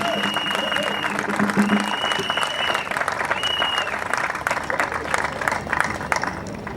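An audience applauds during a speech at the launch of construction works for a new headquarters, with sustained dense clapping throughout and a voice speaking over it.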